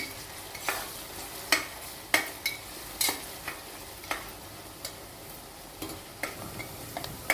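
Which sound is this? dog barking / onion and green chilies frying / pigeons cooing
onion and green chilies frying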